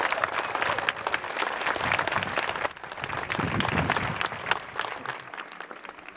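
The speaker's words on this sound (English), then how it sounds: "another big round of applause for President Caboni" Sustained crowd applause at a university presidential investiture ceremony at Western Kentucky University, a dense, steady roar of many hands with a brief dip midway.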